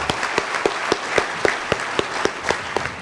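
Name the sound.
audience applause for teacher award honorees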